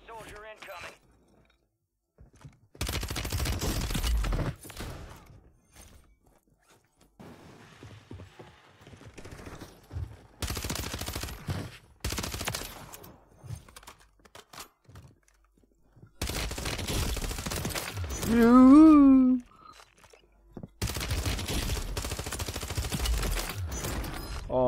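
Bursts of gunfire in Warzone Plunder, several loud clusters of shots separated by near-silent gaps, with speech heard between them.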